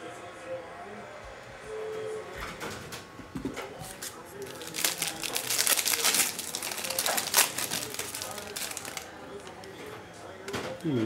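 Foil hobby pack of 2023 Prizm baseball cards being torn open, crinkly ripping and rustling that swells in the middle, with a person talking throughout.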